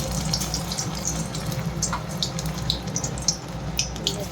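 Battered cauliflower pakoras drop into hot oil in a wok, giving a steady close sizzle with scattered crackles and small pops.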